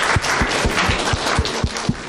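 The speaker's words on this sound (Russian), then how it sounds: "И это достойно аплодисментов" Applause from the audience at a student talk show on corruption, a soft, dense patter of many hands with faint rhythmic thumps, heard at a distance for a couple of seconds.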